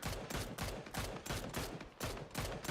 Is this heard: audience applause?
no